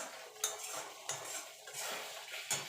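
A spoon scrapes and clinks against a pan, stirring fried masala for a white potato dum, with a few sharp metallic knocks over a faint background hiss.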